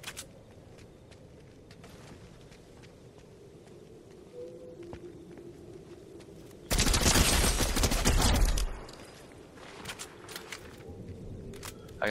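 Gunfire in the video game Fortnite: soft footsteps and faint shots, then a loud burst of rapid automatic fire for about two seconds that fades out into scattered quieter sounds.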